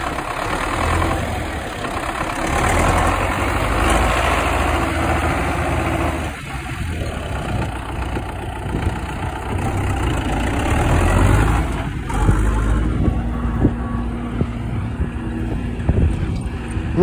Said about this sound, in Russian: даже в этом процессе у нас задействовано 3 трактора